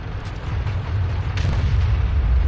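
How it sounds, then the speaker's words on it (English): An AMX tank cannon fires in a tank video game: a heavy, booming blast over a loud, constant low engine rumble, with a sharp burst midway and rumbling continuing afterward. "I fire, I miss."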